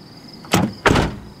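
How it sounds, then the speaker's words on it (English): Two quick mechanical clunks from a 1993–96 Cadillac Fleetwood door being opened and shut, close and fairly loud, with a loose rattling door panel. "So every time when you open the door and close it,"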